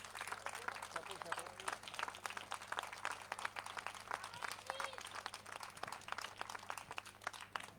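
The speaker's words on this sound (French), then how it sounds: "Encore des applaudissements" A crowd applauds the three women on the 100 km ultra trail podium at an outdoor awards ceremony, with dense, steady clapping throughout and voices mixed in.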